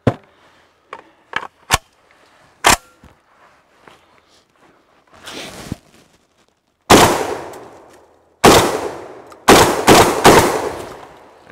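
MKA 1919 AR-15 style semi-automatic shotgun fired outdoors on a cold morning, several loud, sharp blasts with ringing tails, some close together, after quieter handling clicks and movement.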